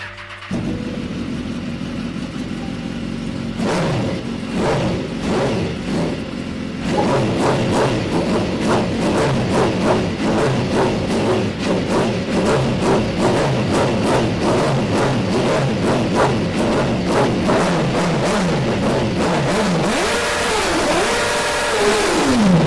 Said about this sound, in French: Le HP4, voilà, je peux démarrer si tu veux. On va vérifier le bruit.